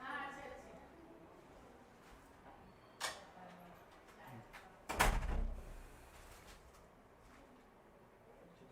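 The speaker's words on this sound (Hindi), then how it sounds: "दरवाज़ा बंद करना पड़ेगा।" An interior door is shut partway through a studio interview, landing as one loud low thud around the middle, with a smaller knock a little earlier and faint room noise and talk around it.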